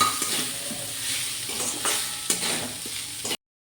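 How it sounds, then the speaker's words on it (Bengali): Deboned fish with garam masala stir-fried in a pan, a busy sizzle under repeated scraping and stirring strokes of a spatula, close and loud, then cutting off abruptly. "মাছটাকে ভালো করে কষিয়ে নিয়েছি"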